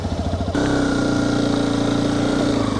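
A Hero Xpulse 210 motorcycle engine fires up after a brief quiet moment, then settles into a loud, steady, close-up idle with throttle blips raising the revs, heard alone without talk.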